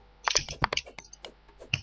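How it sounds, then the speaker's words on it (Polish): Close, crisp clicks of typing on a laptop keyboard during a Terraria gaming session, about a dozen quick, uneven keystrokes in under two seconds, with no talking. "moją klawiaturę można strasznie słychać"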